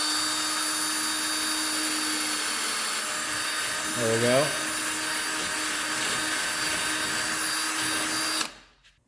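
Power drill boring out an old bushing hole in a Porsche 911 engine part, a steady loud whine running without a break until it cuts off near the end, with a short spoken remark over it.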